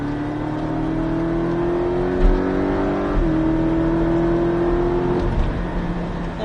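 A Porsche Cayman engine accelerating hard on a race circuit holds a steady, loud drone that rises in pitch through the gears, with brief dips at the shifts.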